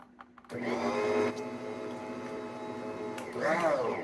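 An electric mixer whirs steadily through apple pound cake batter, a close motor drone that starts abruptly, holds, then rises in pitch near the end.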